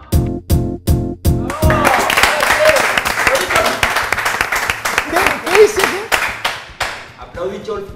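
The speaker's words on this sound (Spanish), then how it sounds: "estoy aplaudiendo" Applause in a radio studio program: a few sharp, evenly spaced claps open, then a denser burst of clapping with voices talking and laughing over it, fading near the end.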